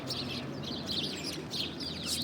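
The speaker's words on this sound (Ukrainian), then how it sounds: "Шпак цікаво співає." Starling singing in late March, a run of bright chirps and whistled phrases coming in repeated bursts over a soft, steady outdoor background.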